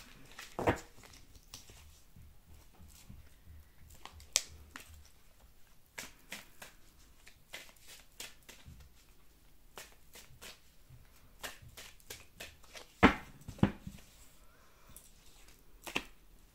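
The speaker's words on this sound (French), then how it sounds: "Donc je tire 5 cartes." Tarot cards shuffled and drawn one by one for a reading: soft papery riffles and scattered crisp card snaps and slaps at irregular intervals, close and fairly quiet, with no talking.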